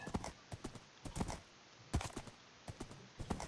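Horse hooves clopping in Minecraft, heard as clustered bursts of quick, sharp steps with short pauses between them, close and fairly loud, with no talk over them.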